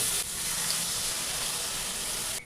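Water poured into a pan of hot fried spice masala for a potol (pointed gourd) curry, giving a loud, steady steaming sizzle and hiss that holds evenly for about two seconds, then cuts off.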